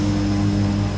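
Aircraft engines roar in reverse thrust just after landing at Jomsom airport, a loud, steady, droning hum with strong low tones heard from inside the cabin.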